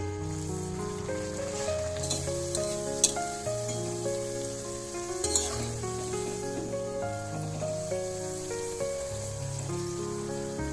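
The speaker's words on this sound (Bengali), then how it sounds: "এভাবেই আমি সবগুলো ভেজে নেবো" Luchi puris bubble and sizzle in hot oil with a soft, crackling hiss and occasional sharper pops, while tuneful background music plays over it.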